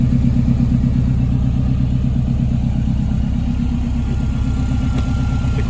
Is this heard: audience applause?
no